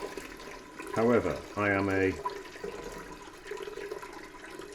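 Beef stock is poured in a kitchen, a continuous watery splashing and trickling running throughout. Someone speaks briefly over it near the start.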